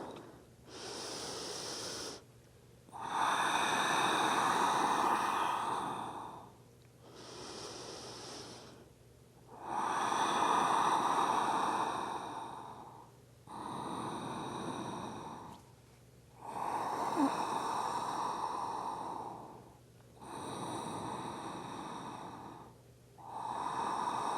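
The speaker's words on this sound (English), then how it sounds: "5 deep Ujjayi breaths" Deep Ujjayi breaths during prenatal yoga: slow, even, throaty inhales and exhales, about eight long breaths with short pauses between them, close and soft.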